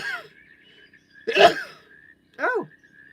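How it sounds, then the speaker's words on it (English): A single close, sharp sneeze bursts out of near silence, followed a moment later by a short vocal exhale. "I'm going to sneeze"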